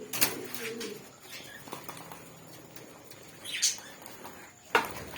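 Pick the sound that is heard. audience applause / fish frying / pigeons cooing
pigeons cooing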